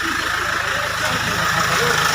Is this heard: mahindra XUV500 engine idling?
yes